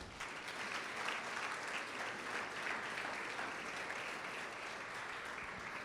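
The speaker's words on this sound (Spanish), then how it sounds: "Dele un aplauso a Jesús." A church congregation applauds together in a steady, dense patter of many hands that holds evenly throughout, heard from some distance and fairly soft.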